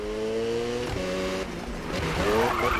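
A car with a rotary engine drifting, its engine wailing through rising and falling revs while the tires squeal continuously, loud and close with no pauses.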